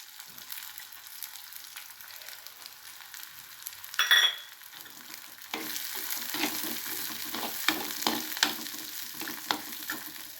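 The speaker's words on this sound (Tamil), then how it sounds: "அந்த வெங்காயத்தை ஒரு கிண்டு கிண்டி விட்டுட்டு இது கழுவி வச்சுருக்கிற பாசிப்பருப்பு அதை அதில் போடுறேன்" Frying onions stirred in a pan, then washed moong dal tipped in for a pumpkin poriyal; a quiet sizzle, a burst of stirring, then a louder steady sizzle with scraping clicks.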